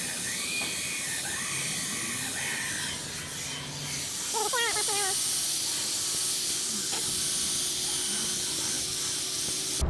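Brake cleaner hisses out of an aerosol can onto an outboard motor's steering cable in a long, steady, close spray, with a brief murmur of voices partway through.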